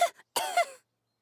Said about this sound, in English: Caterpillar's got a little cough.